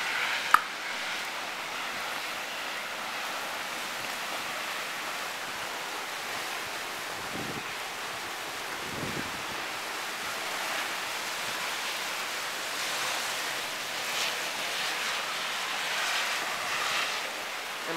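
Strong wind blows outdoors during a February storm in Phoenix, a steady broad roar of gusts buffeting the microphone with no one speaking.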